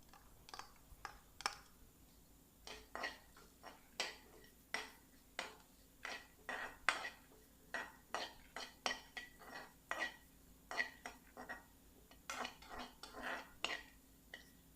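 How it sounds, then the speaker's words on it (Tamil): Repeated sharp metallic scrapes and taps of a spoon stirring grated coconut in a pan until golden brown, steady and fairly quick, with no talking. "தேங்காய் சேர்த்து கோல்டன் ப்ரௌன் கலர் வர வரைக்கும் இதை நம்ம கிளறி விட்டுட்டே இருக்கணும்"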